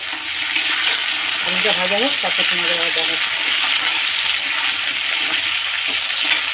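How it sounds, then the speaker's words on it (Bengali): Potatoes fry in a pan with a steady, close sizzle and hiss, and a voice speaks briefly over it. "তো চলো এখন আলুটা একটু ভাজা হোক"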